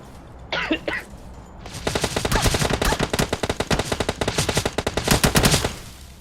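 Rapid automatic gunfire in the mobile shooter PUBG Mobile, a long sustained burst of loud, evenly spaced shots after a few brief sounds at the start.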